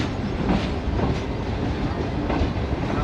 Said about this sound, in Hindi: तो उन्हीं के नाम पर इस ट्रेन का नाम है बुल्ले शाह पैसेंजर